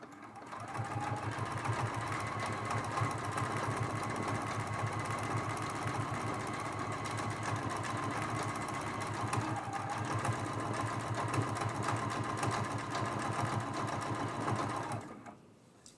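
Sewing machine doing free-motion meander quilting, a steady close mechanical whir running continuously and evenly before cutting off at the end.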